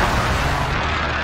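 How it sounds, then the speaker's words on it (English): A precision airstrike explodes in the Call of Duty Warzone game, a brief, loud, rumbling blast that fills the short moment with dense noise. "Be advised, friendly precision airstrike inbound."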